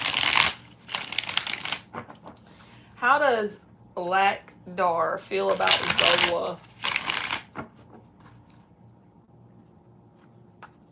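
Tarot cards being shuffled in several bursts of crisp riffling, close and loud, with a person talking in between the shuffles.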